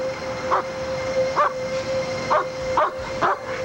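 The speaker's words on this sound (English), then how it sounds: "Shut the dog up! I can't stand it!" A dog barks about five times at irregular intervals, with short, sharp yaps rising over a steady hum and background noise.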